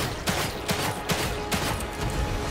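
Rapid gunshots from the video game The Evil Within 2 crack in a steady, close, loud series of repeated blasts over a dense rumbling backdrop.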